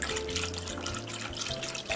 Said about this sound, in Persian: بعد ما یه ظرف یخ داریم، حتما باید آب خیلی سرد باشه توی این سیستم و بهش آب اضافه میکنیم